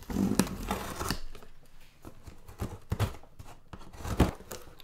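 A cardboard parcel is opened up close, with tearing, crinkling and rustling of cardboard and packing in irregular bursts, with no talk.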